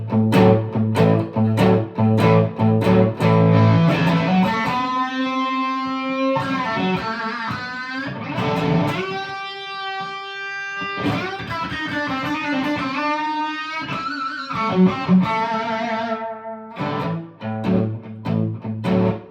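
Electric guitar with an amp-driven crunch tone and no pedals, opening with chugging chord hits before a lead solo of sustained, bending single notes and fast runs, then returning to chords, loud and close throughout.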